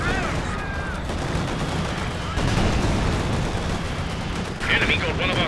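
Dense, continuous gunfire from a Company of Heroes 2 battle, rapid bursts and heavy reports piling up loudly throughout with a few sharper cracks, faint game sounds mixed in.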